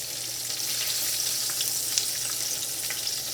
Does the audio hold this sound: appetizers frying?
yes